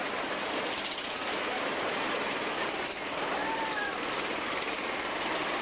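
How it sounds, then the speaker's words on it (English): A diesel miniature railway train in Blackpool rumbles steadily past with a broad, continuous mechanical roar and faint rattling, close and fairly loud throughout. "This is the miniature railway, and unfortunately it's not steam. I'm afraid there's a diesel engine driving this one"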